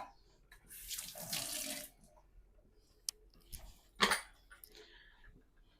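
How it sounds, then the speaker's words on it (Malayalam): A little water is poured from a tap or vessel into a pot of kappa biriyani, a short gushing splash lasting about a second, followed by faint clinks of utensils in a quiet kitchen. "ഇനി ഒരു ലേശം വെള്ളം ഒഴിച്ചു കൊടുക്കാം"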